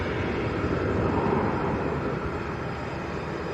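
Jet airliner departing Manchester Airport, a steady broadband engine roar held at constant loudness throughout, heard from a distance with no talking.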